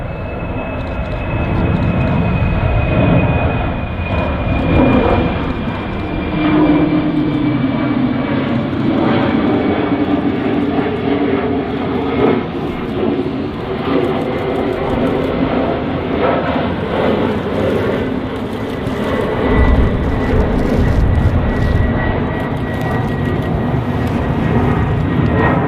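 A Lufthansa airliner departs Manchester Airport in windy conditions, its engines a loud, sustained low roar that holds steady throughout with a rumble swelling near the end.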